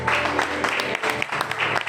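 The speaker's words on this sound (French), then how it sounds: "Nous acclamons pour le Seigneur." A church congregation applauds for the Lord with steady, moderately loud clapping that carries irregular accents throughout, with some voices mixed in underneath.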